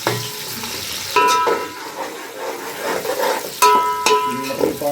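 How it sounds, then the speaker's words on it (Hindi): Sliced onions hitting moderately hot oil in a pan, a near, continuous sizzle with bursts of crackle and a few clinks of utensils, no talk. "अभी ऑयल थोड़ा सा गर्म हो गया, इसके अंदर प्याज डाल रहे हैं"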